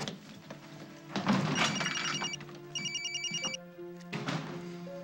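A telephone rings in two short electronic bursts inside a room, with thumps and shuffling movement around them and a low hum underneath.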